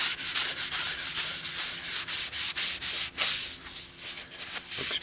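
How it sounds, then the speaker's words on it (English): Continuous rough sanding against a spinning wooden bowl on a lathe, a loud scratchy hiss that pulses as the paper shifts, with no talking. "Back to sanding."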